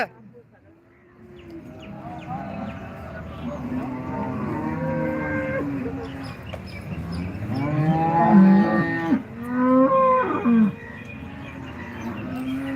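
Holstein Friesian cows at the Loni cattle market give several loud, drawn-out moos, rising in the middle, over a busy market background with other livestock nearby.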